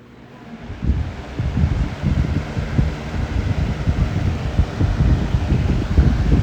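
Air King 9723 box fan switched to full power, a steady loud rushing and buffeting airflow that swells up within the first second and holds, with no talk.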